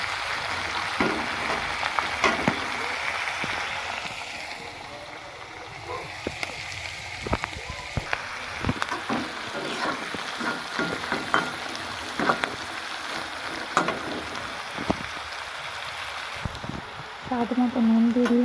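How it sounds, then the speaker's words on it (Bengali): Winter vegetables frying in a pan, a soft steady sizzle under occasional stirring knocks and clatters across the span, with a brief burst of a voice near the end. "আছে সব সবজিগুলোকে এভাবে ভেজে নিলাম।"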